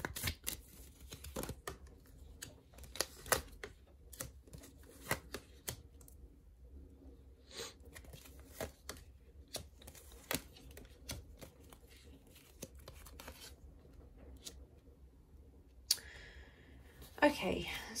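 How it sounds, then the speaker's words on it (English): Tarot cards are shuffled and pulled from the deck, giving scattered, close rapid clicks and flicks with a louder riffling flurry toward the end, while a person talks quietly throughout. "Let's pull out a few more cards and see though."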